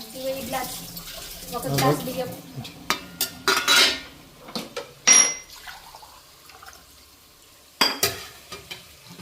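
Dishes, pots and utensils being washed with water, with intermittent clinks and clatters of metal and crockery over running water, and voices talking in the background.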